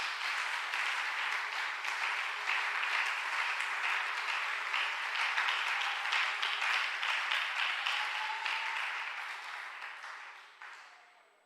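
A church congregation applauding together, a sustained wash of many clapping hands that holds steady and then tapers off and fades out near the end, with no speech over it.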